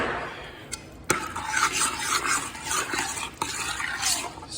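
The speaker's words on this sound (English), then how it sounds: "Stir that in." Spoon stirring garlic powder, parsley and salt into a pot of sauce piquante, a steady scraping swirl with faint sizzling, a few sharper clinks against the pot, close and alone.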